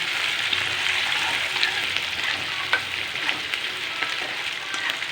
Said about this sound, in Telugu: పచ్చిమిర్చి ఉల్లిపాయ వేసుకోవాలి